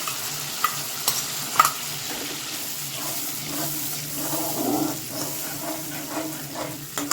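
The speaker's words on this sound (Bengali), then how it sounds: "এখন আমি দইটা দিয়ে দিলাম।" Beaten curd poured into a hot pan of pointed gourd on a lowered flame, giving a steady close sizzle and stirring hiss with a few light utensil knocks and no talk.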